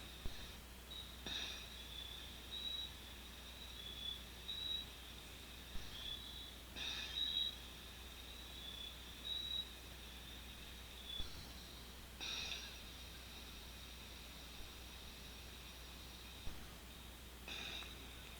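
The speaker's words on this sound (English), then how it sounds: "You can hear the crickets in the background." Crickets chirp at night in the background of a solar-powered trail camera recording, a steady high insect drone with faint repeating pulses running through the whole stretch, no voices.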